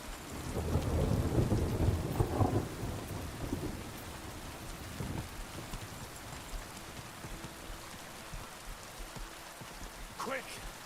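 A thunderstorm in Kingdom Come Deliverance 2 opens with a deep, loud rolling thunder rumble that fades into steady rain pattering on surfaces, with a voice briefly heard over it.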